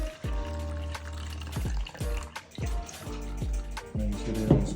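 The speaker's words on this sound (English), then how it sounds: "So I'm gonna pour that juice" Pickle juice pours into a small container in irregular gurgling splashes and glugs with rising bubbly tones, close and moderately quiet, no talking.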